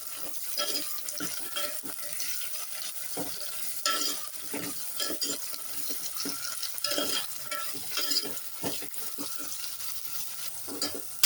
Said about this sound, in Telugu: కట్ చేసి పెట్టుకున్న ఆలు, కట్ చేసి పెట్టుకున్న క్యారెట్ వేసుకొని వేయించుకోవాలి.